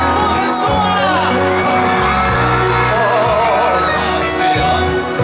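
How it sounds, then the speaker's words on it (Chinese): Crowd at an outdoor New Year's Eve countdown concert on the Kaohsiung Penglai stage screams and cheers loudly and steadily, mixed with live music throughout. "高流舞台的尖叫声不能输啊！"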